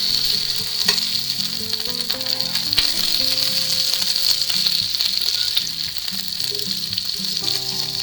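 Home fries with eggs and onions sizzle loudly in a hot pan, a constant crackling hiss broken by intermittent scraping knocks from stirring or turning.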